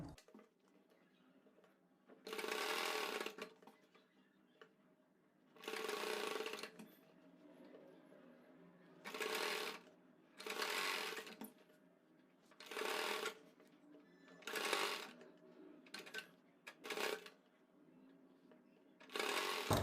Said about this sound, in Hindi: ये देखिए इस तरीके से आपको सिलाई लगानी है।